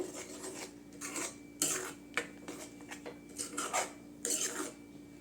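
Spoon scraping and stirring bottle gourd thokku with coconut in a pan, quiet irregular metallic clinks and rasping scrapes in short bursts.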